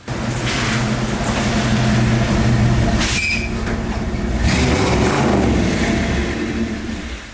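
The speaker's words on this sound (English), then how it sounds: "That little 401 Nailhead V8 sings a nice song that I can dance to." A 401 Nailhead V8 engine in a donk car rumbles loudly and steadily with deep revving swells, rising and falling over several seconds, close by with no talking.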